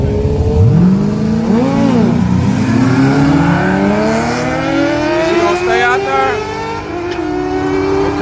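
A Mustang race car in a grudge race accelerates hard with a loud, rising engine roar that climbs through the gears in a couple of quick shifts, heard close and continuous as it pulls away.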